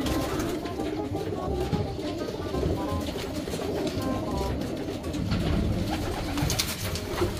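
Racing pigeons coo steadily in a dense, continuous murmur, with many birds close by and overlapping calls throughout.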